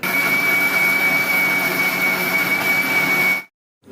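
A mixer grinder blends pomegranate seeds for juice, a loud, steady, high-pitched motor whine with an even drone that cuts off abruptly near the end, leaving silence.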